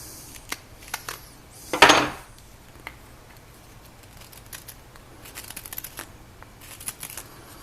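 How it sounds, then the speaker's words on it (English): Carving knife scraping across the grain of a wooden spoon blank, giving light, irregular scratchy strokes with one louder, harsher rasp early on, then a run of quicker, softer scrapes, close and alone. "Do a little bit of that scraping action."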